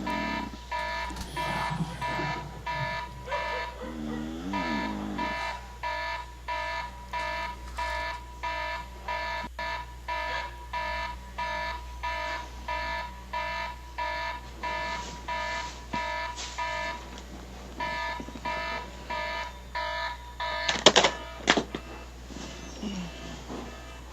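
An alarm goes off steadily beside a bed during sleep, a repeating, evenly pulsed electronic beeping that carries on for the whole stretch without stopping, with a few brief rustles of movement near the end.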